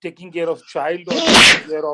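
A single sharp sneeze from a person bursts out loudly in an indoor talk setting, with someone speaking in a steady voice before and after it.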